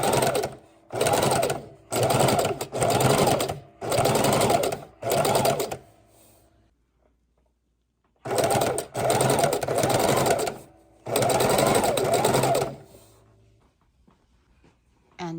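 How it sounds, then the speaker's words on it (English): A sewing machine stitches through three or more layers of scrap fabric for a rag-tie room divider, running in loud bursts of a second or two with short pauses, then going quiet before starting again. "You'll sew an inch or two, stop, grab some more of your scrap fabrics and put them on"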